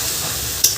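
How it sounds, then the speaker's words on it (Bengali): Taro leaves (kochu shak) cooked with a rohu fish head being stirred in a pan, a soft steady sizzle and scrape lasting under a second, ending in one brief clink of the utensil. "কচুর শাক নাড়াচাড়া এরকম দিয়ে, নাহলে পুড়ে যাবে।"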